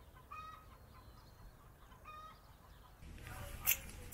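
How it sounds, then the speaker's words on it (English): Chickens cluck softly on a bush property in the Dandenong Ranges, Australia, with a few faint calls over low background noise and a louder rustle near the end. "So we're just gonna feed the chickens."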